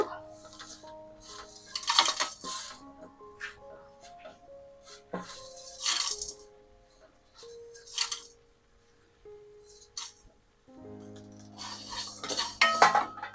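Whole spices such as cardamom, star anise, peppercorns and fenugreek are dry-stirred in a pan for prawn pickle, with intermittent scraping and light metallic clinks of a spoon against the pan in uneven bursts, under talk.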